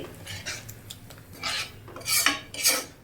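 Eggs for egg pasta are stirred and fried in a pan, with rasping spatula scrapes against the metal coming in short bursts close by.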